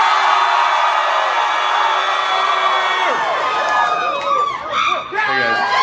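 A crowd of voices cheers and whoops together in a dense, loud burst that stays steady for a few seconds, then breaks into scattered individual shouts and yells close by.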